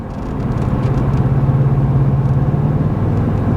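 Ford F250 pickup with a 6.8L gas V8, towing a heavy load up a slight hill at highway speed off the throttle: a steady, loud low engine and road drone with a humming tone, continuous throughout and no talk.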